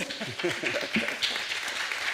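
An audience at a 2022 candidates' forum for New York State Assembly District 12 applauds in a steady, even wash of clapping, with faint voices underneath.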